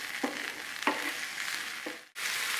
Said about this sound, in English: these begin to sizzle a bit, we just want it to begin to cook just a bit